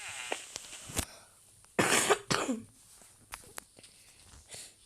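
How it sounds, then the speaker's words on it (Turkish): Several coughs ring out nearby, one loud and harsh, the others shorter and lighter, with quiet gaps and small knocks between them. "Dediğim gibi öksürüyorum."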